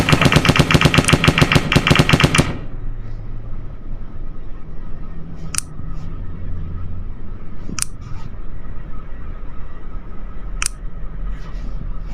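Military vehicle's mounted machine gun fires a rapid sustained burst lasting a couple of seconds, loud and close, then stops; a few sharp single reports follow later over a low rumbling background.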